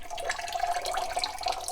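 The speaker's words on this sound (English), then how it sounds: "You want to drip in some of the lemon inside of the cold water." Lemon juice dripping into a pot of cold water while collard greens are prepared: a steady, close trickle of liquid running into water for the whole moment, with no talking.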